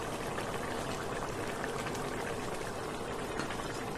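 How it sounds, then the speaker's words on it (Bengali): Cooked fish curry is poured from the pan into a serving dish, giving a steady, even wash of liquid sound that runs unbroken for several seconds, close and moderately loud, with no talking. "দেখেন আমি সার্ভ করার জন্য মাছটা ঢেলে নিলাম"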